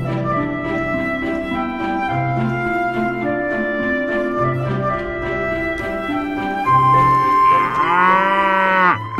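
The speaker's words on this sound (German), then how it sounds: "Ich nehme nur Bilder und halte Abstand von den Kühen." Cows in an alpine hiking area moo loudly and close by, with several long, low overlapping calls and a rising bellow near the end. No one talks over them.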